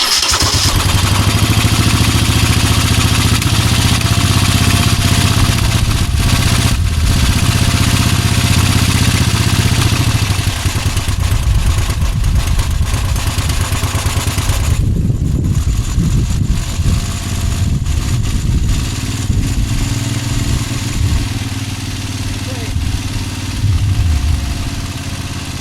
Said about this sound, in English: So let me go and move the microphone and we'll start the bike up again.